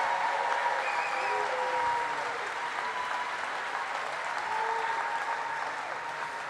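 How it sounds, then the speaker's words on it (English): A conference audience at a 2019 opening general session gives sustained, dense applause for the 2018-19 board of directors, steady and fairly loud throughout with no talk over it. "please, humongous round of applause for your 2018-19 Board of Directors"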